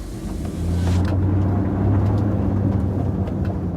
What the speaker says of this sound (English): As the car drove away, leaving a cloud of fumes